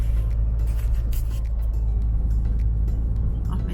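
Inside a car in heavy traffic along the Üsküdar seafront in Istanbul, a steady low engine and road rumble runs throughout, with faint passing vehicle noise and no speech.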